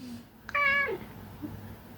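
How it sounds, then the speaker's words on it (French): A cat gives a single clear meow at close range, rising and then falling, with quiet room tone before and after. "Je pense que vous devez bien l'entendre quand il miaule."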